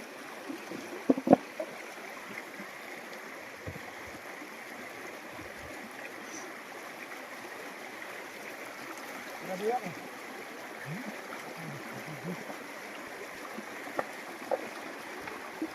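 River water flowing and trickling during a fishing outing, a faint continuous burble with small splashes and knocks, nearby voices talking over it.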